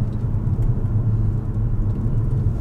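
A Tesla driving itself on Autopilot gives a steady low road rumble and faint motor whir from inside the cabin, continuous and even with no talking.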